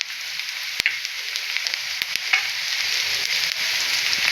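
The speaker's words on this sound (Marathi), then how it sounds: "आपला कांदा जो आहे तो लाल होईपर्यंत त्याला फ्राय करून घ्यायचा" Onion frying in a pan until browned, a loud, continuous close sizzle with occasional sharp clicks of a stirring utensil against the pan.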